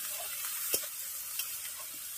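Ginger paste frying in hot oil with a pinch of turmeric, a quiet constant sizzling hiss with a couple of brief spatula taps, no speech.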